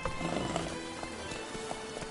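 Hooves of the horse Roach in The Witcher 3, a soft steady clip-clop of a trotting horse heard at middle distance under game music and ambience.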